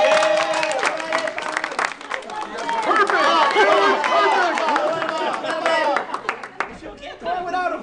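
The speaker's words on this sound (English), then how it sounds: "Let's give Bob a round of applause." An audience applauds and cheers for Bob, a dense burst of clapping mixed with excited voices and crowd chatter that holds steady before thinning out near the end.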